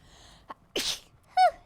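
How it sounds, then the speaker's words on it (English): A person sneezes once, a sharp close burst preceded by a small inhale catch, followed by a brief high vocal sound, in a quiet room. "I'm going to sneeze again."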